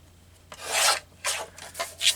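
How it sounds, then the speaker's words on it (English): Paper edge being trimmed for a handmade junk journal, several short rasping strokes close up, each a dry scraping rub separated by brief pauses, with no talking. "Let's trim this edge off here."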